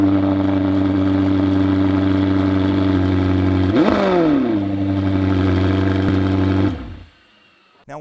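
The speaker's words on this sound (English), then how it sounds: "And here's the startup of the 720S." Twin-turbo 4-liter V8 of a McLaren 720S starts up loud and close, settling into a steady rumbling idle before a sharp rev flare near the middle, then idling again until the engine cuts off abruptly near the end.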